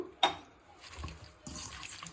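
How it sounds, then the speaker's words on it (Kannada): Water is poured into a bowl of finely chopped amaranth greens for washing: a few quiet splashes and sloshes, with one sharper pour near the start and softer swirling after, close and faint with no talking. "ಬೌಲ್ಗೆ ಹಾಕಿ ನೀರು ಹಾಕಿ ಚೆನ್ನಾಗಿ ತೊಳ್ಕೊಬೇಕು"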